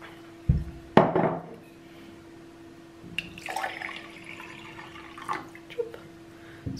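A cup of water is poured into a pot in a home kitchen while making kimchi, with a soft splash and trickle, a sharp clank of dishes near the start and quiet handling noises afterward.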